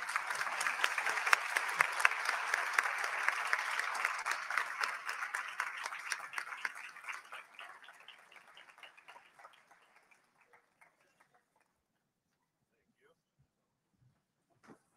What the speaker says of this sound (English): Graduates, please stand and applaud for all your family and friends